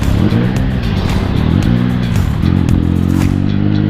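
A motorcycle rides along a town road on a morning school run, its engine loud and close, revving up and easing off through several gear pulls, with wind rush and no speech.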